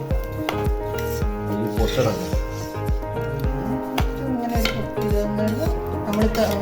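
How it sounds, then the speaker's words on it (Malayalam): Ghee, crisp fried onions and other ingredients stirred and fried in a pot for biryani, with repeated metallic scrapes and knocks of a ladle against the pan, steady and close, under a speaking voice. "ഈ നെയ്യ് കരിയാമ്പിളി ഇതെല്ലാം കൂടി നല്ല ഒന്ന് ഇളക്കി വറുത്ത് കൊടുക്കാം"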